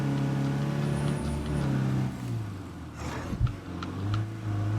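A vehicle driven in the game State of Decay 2 drones with a steady, loud engine hum that shifts in pitch, with a heavy thump partway through.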